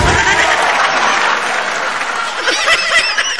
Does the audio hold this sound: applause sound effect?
yes